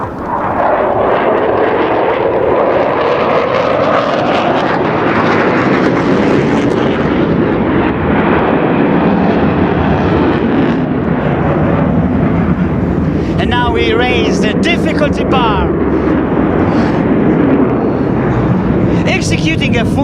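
Eurofighter Typhoon jet at the NATO Days and Czech Air Force Days air show pulling a powerful, aggressive exit, a sustained loud engine roar that swells and shifts over twenty seconds, with crackling rasp toward the end.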